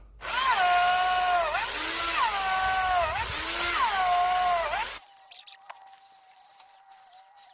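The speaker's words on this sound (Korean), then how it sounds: "충전 드릴보다는 이 전기 드릴이 이게 낫습니다. 이 힘이 좋아가지고요." Corded electric drill with a 12.5 mm oyster mushroom bit bores into a log, its whining motor rising and falling in pitch for about five seconds, then stops, leaving faint clicks and handling noise.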